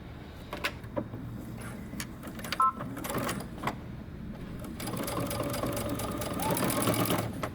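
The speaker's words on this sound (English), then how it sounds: "now we're going to stitch all the way around using 3/8 of an inch seam allowance" Sewing machine stitching a bodycon dress seam with a 3/8-inch seam allowance, running in short bursts at first and then in a longer continuous run, close and steady with no talking.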